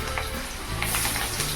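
Panch phoron (five-spice) tempering with dried chillies crackles loudly in hot oil for a prawn curry, a dense close sizzle running without pause.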